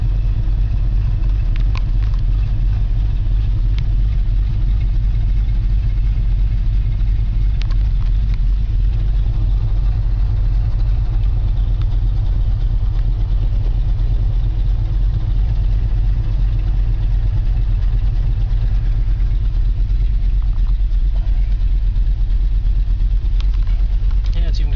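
A 1964½ Ford Mustang idles after a cold start, its engine a loud, steady low rumble with slight unevenness and occasional clatter, running continuously close by.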